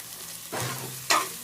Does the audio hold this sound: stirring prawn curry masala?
yes